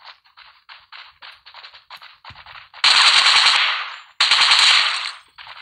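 Gunfire in the battle-royale game Rules of Survival: light clicking steps give way to two long, loud bursts of automatic fire, separated by a brief pause.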